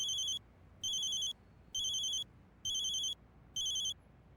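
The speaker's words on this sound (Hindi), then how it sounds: "किसका फोन है?" A phone rings in five short bursts at a steady pace, each electronic trill bright and clear over a quiet room background.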